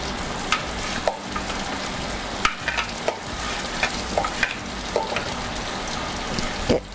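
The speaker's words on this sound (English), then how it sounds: "I'm going to add all of my pulsed mushroom and onion mixture to the skillet." Pulsed mushroom and onion mixture sizzles in butter in a skillet, a steady close fry with irregular scraping knocks as a utensil stirs and pushes it around.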